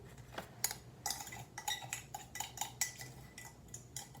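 A utensil stirs fructose into a natural indigo dye vat, clinking and scraping against the container in quick irregular taps, fairly close and alone.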